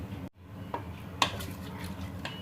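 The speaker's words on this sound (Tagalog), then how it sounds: "haluin lang po muna natin bago po natin siya takluban" A spoon stirring pork adobo ribs in a pot, with scraping and light clinks of utensil against metal over a soft cooking simmer, including one brighter clink.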